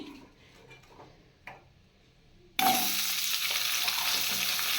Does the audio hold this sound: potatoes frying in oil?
yes